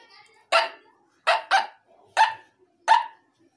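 A man imitates a dog barking with his voice, giving five sharp, loud woofs close by, two of them in quick succession, with short silent gaps between them.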